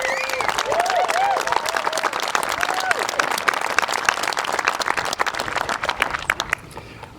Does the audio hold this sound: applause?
yes